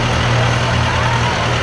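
A Mahindra tractor engine idling with a steady low rumble, loud and close, with no breaks.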